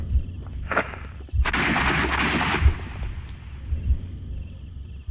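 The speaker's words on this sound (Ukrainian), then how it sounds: "Тобто, з одного револьверу 2 постріли." Revolver gunshots in the detective game Sherlock Holmes: Crimes and Punishments ring out as loud, booming reports with a long echoing tail, one after another, amid low in-game ambience and no speech.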